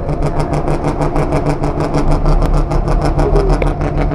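Steady, loud engine drone of the Super Shuttle ferry ship running at sea, a continuous rumbling hum with a rhythmic pulsing throb and no talking.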